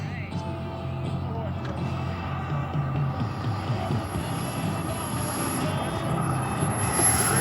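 Airplane landing at the Arvada air show, a steady broadband engine and propeller drone with some wind, holding level and fairly close throughout with no speech over it.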